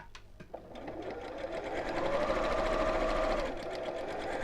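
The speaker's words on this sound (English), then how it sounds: "let's just sew with around about 1/4 of an inch seam allowance" Sewing machine stitching a sequin purse, a steady rapid mechanical whirr that speeds up and runs continuously for a few seconds, close and clear.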